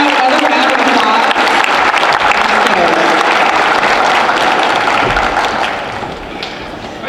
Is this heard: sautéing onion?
no